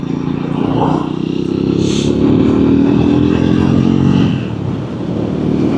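A Triumph Scrambler 400X carrying a pillion passenger, running in fourth gear at just under 30 mph, with a steady loud engine drone and heavy wind rush throughout.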